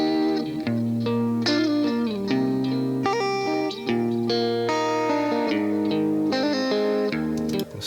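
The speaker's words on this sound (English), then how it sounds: "It's just one guitar. It's not a rock band anymore. It's an echoey kind of guitar." A single Stratocaster electric guitar plays a solo through echo, chorus and distortion effects, sustained notes ringing with heavy repeats and reverb, loud and alone with no voices.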